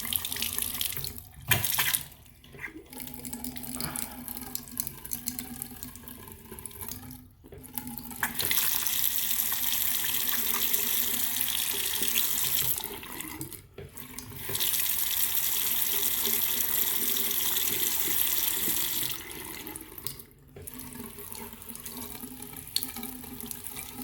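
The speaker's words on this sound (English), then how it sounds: "Now let's check our faucet." Water gushes from a household faucet during a low-flow check, several bursts of steady running separated by brief shutoffs, close and fairly loud, with no talking.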